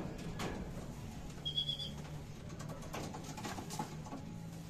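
A racing pigeon arrives at its loft after a 372 km derby race with faint cooing and soft fluttering and pattering, quiet and close, against a low background hum.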